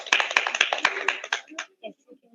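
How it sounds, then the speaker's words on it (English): An audience gives a brief burst of clapping for Ma Vanshika at a Nithyananda satsang, the claps quick and close together before they thin out under voices. "Let us all give a round of applause to Ma Vanshika."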